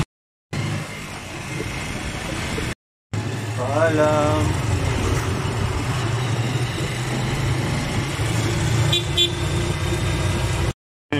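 Tricycle engine rumbling in traffic with a short burst of horn honking early on, set amid steady road noise and passing vehicles, with a brief spoken word.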